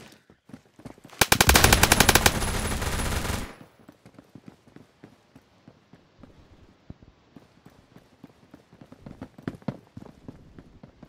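A rapid, loud burst of automatic gunfire in the Roblox shooter Phantom Forces lasts about two seconds, then quieter scattered clicks and footstep-like taps continue.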